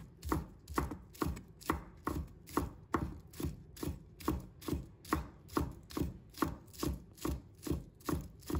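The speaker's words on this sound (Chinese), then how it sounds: "把它切成小粒" A knife chops scallion whites into small pieces on a cutting board, a close, evenly spaced series of crisp thuds about two per second, steady and alone with no talk.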